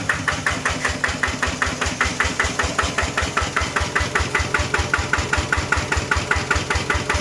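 A walking tractor's small single-cylinder engine chugs steadily at idle, close by, with an even rapid knocking rhythm and no voices.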